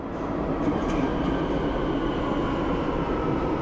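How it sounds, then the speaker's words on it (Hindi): A Barcelona metro train pulls into an underground station with a steady, loud rumble and faint wheel squeals, heard alone without talk. "तो भाई कुछ इस तरह का मेट्रो स्टेशन है ये, और मेट्रो भी आ गई है"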